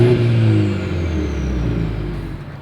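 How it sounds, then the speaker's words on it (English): A 2023 Mercedes-Benz GLC 300 exhaust rumbles steady and close, a low droning engine note that slowly eases off over a few seconds. "As always, here is that exhaust clip."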